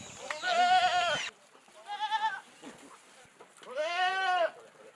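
Galla goats bleating on a small ranch, three loud, close, wavering bleats separated by short pauses.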